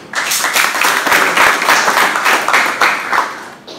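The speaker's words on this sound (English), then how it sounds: "Don't clap for me. Clap for yourselves" An audience claps and applauds in a dense burst of many hands that fades slightly toward the end.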